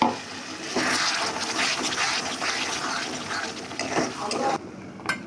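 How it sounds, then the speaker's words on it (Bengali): Water poured into a pan of spiced meat curry with turmeric, giving a steady close splashing, bubbling hiss that runs for several seconds before dropping off near the end, with no talking. "একটু অল্প জল অ্যাড করলাম।"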